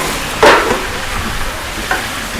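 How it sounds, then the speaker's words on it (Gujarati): Dal tadka tempering with garlic, dry spices, curry leaves and ginger hitting hot oil: a sharp sizzling burst rises, then fades to a softer steady crackle, with a second brief flare near the end, close and fairly loud. "ધબધબાટી ચાલુ થઈ ગઈ."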